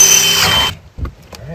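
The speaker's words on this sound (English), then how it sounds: "we're going to drill out a hole using this as a pilot, right through the SD5." A power drill bites through a metal SD5 bridge top rail truss support, a loud, high whine that stops abruptly partway through, followed by a few faint clicks and handling noises.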